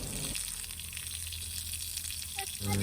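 Water gushes steadily from a freshly repaired faucet, a continuous close hiss of running water that swells slightly louder near the end.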